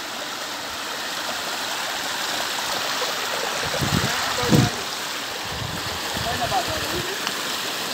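A mountain river in flood rushes past during a landslide, with a loud, continuous roar of water and a few brief bumps and voices partway through.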